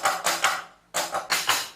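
Closed hi-hat cymbals on an electronic drum kit are struck in a quick run of short, crisp ticks, close and clear, with a brief pause between two groups of hits.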